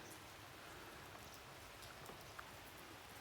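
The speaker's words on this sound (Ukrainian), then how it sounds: "Слухайте звуки Вінницького дощу" Steady light rain falling and pattering on surfaces, with a few distinct drips standing out, fairly quiet and continuous with no voices.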